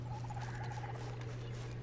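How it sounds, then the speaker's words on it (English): Turkeys gobbling in the Red Dead Online video game, a faint series of short warbling calls over a steady low hum of game ambience. "And some turkeys."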